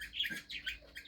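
A parrot gives a quick series of high, bright chirps, close and fairly faint, with short pauses between calls and no voices.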